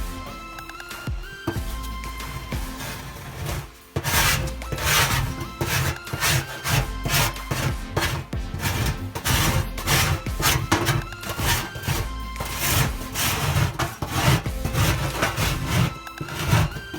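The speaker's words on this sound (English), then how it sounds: "try and use the scraper to scrape the oil or the dirt out." A scraper rasps oil and dirt off a stove top in steady back-and-forth strokes, a continuous close gritty scrubbing with no talk.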